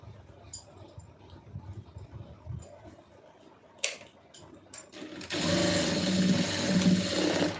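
A sewing machine stitches a tack on a garment's shoulder seam. Quiet rustling and handling come first, then the machine runs steadily and loudly for the last couple of seconds.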